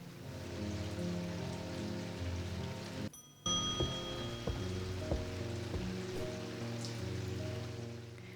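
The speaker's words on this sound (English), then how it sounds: "Oh, and it's raining." Rain falls steadily in the video game Strange Antiquities, a soft constant hiss beneath sustained ambient music, briefly cut off and resuming, with no one talking.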